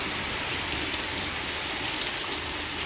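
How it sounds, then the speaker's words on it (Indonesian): Heavy rain coming down steadily in windy weather at Karangsong, a dense, even hiss of downpour without pause. "Hujannya kencang banget,"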